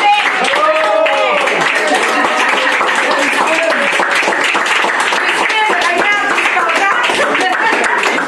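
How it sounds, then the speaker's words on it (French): Wedding guests clap right after the register is signed, a lively, close round of applause with individual claps standing out, while voices call and chatter over it the whole time. "ça envoie encore une main d'applaudissement"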